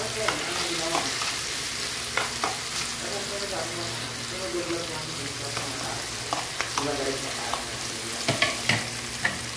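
Bitter gourd (ampalaya) hits a hot pan and sizzles steadily with oil, with repeated scraping and clinking of a spatula as it is stirred throughout.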